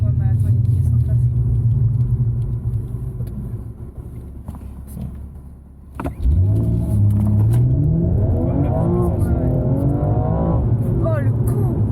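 A BMW M240i being prepared for drifting launches hard: a low idle rumble dips, then the engine surges into a loud, rising roar with climbing revs and gear changes, close by, with voices talking over it.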